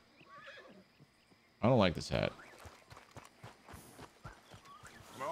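A horse in the Red Dead Redemption 2 video game gives one loud, close neigh, followed by softer hooves clip-clopping at a walk while someone talks.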